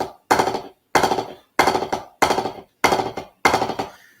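A drummer plays six five-stroke rolls in a row, each a tight cluster of quick strokes ending in an accent. The bursts are loud and close, separated by short silences, with no voice.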